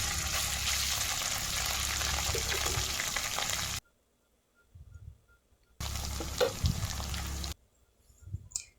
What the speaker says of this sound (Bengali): তো হাঁড়ি থেকে ফার্স্ট অর্ধেক ভাত দিয়ে আমি ভেজে নেব